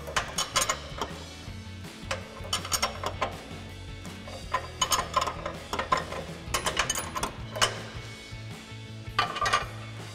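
A 7/8-inch or 22 mm wrench loosening the upper control arm nut on a Toyota Tundra during a suspension lift install, with repeated ratcheting clicks and metallic clinks in bursts, close by and alone.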